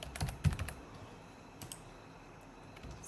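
Computer keyboard typing code for a Unity game script, a few quick soft clicks in short bursts followed by sparse faint taps in a quiet room.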